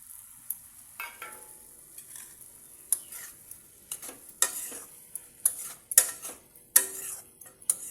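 A spoon stirs boiled banana flower and fried potatoes in a pan, giving close scraping and tapping strokes in irregular bursts over a light background sizzle, with no talking.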